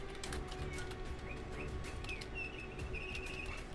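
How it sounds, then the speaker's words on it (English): A bird chirps in the background, with short, high tweets and whistles scattered over a steady low hum of room noise. "If you hear a bird, it's Tesla."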